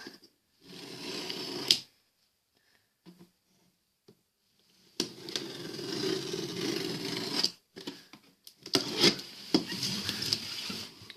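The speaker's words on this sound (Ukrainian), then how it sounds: "Відкриваю нашу посилочку" Bursts of rustling, tearing and scraping as packaging is pulled open, with short pauses between rounds of ripping tape and crinkling material, close by.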